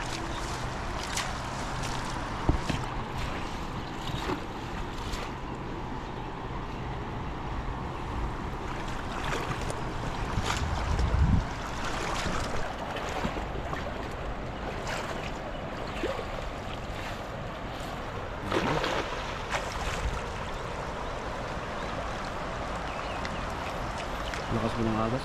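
A strong river current surges past with a steady, full rushing wash that never lets up, while people talk over it now and then.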